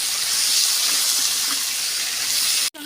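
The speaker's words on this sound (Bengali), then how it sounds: "টমেটোটা ভাজছি" Tomatoes sizzle in hot oil in a pan, a steady broadband hiss that runs loud and even close by, cutting out briefly near the end.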